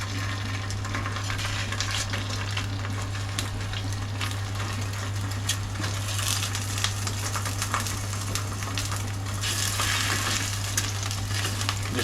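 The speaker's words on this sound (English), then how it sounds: "we'll carefully just now put the sausages in the pan" Sausages frying in hot oil in a pan, a steady dense sizzle and crackle throughout with a constant low hum underneath, close and alone with no talk.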